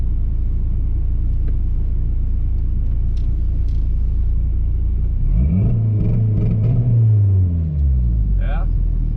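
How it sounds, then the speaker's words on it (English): A car with a new ECU idles with a low, steady rumble, then the engine revs up and bounces on two-step launch control with rising and falling tones near the end. "Let's see if the two-step works."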